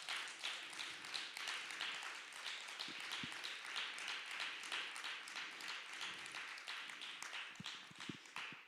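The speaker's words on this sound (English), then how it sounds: "If you could give a round of applause for our esteemed guest," Audience applause for a guest at a panel on abolishing the child welfare system, steady dense clapping throughout at moderate level from a fairly close crowd, with no talk over it.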